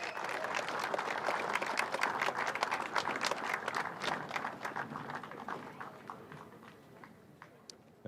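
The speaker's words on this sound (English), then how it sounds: "Ladies and gentlemen, please be generous in your applause." Audience applause at a motorsport championship prize-giving, a dense crackle of many hands clapping steadily for several seconds before thinning toward the end, with faint voices underneath.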